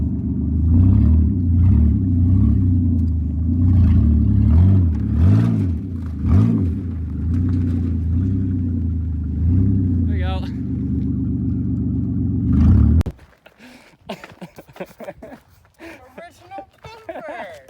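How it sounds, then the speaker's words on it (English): A truck engine revs hard in repeated surges while pulling a junkyard Challenger down a driveway, with rumbling climbs and dips before it cuts off abruptly. Voices talk over it and continue with clatter afterward. "It's pulling my truck down the driveway."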